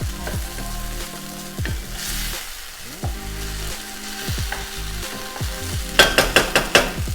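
A rice dish mixture cooks down in a pan with a steady frying sizzle, scraped and stirred at intervals, ending in a quick series of sharp knocks or taps near the pan.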